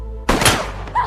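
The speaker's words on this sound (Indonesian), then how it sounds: "untungnya tembakan itu meleset" A single sharp gunshot cracks out after a moment of low hum, followed by a short rumbling decay and a faint thud.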